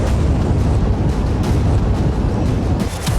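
An explosion sound effect for a news report on an attack on Israel is a loud, continuous roaring rumble that stays dense and heavy throughout, with no speech.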